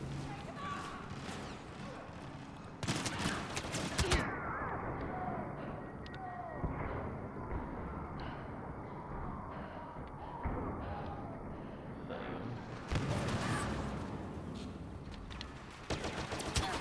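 Star Wars Battlefront blaster fire on the Death Star crackles in short volleys amid battle noise, with louder bursts at intervals while people talk over the action.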